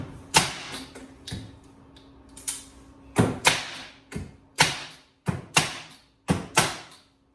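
A Harbor Freight 2-in-1 air nailer/stapler, run off a 26-gallon air tank, fires staples into a board: about a dozen sharp, loud pneumatic snaps come in irregular clusters, with short hissing decays between them.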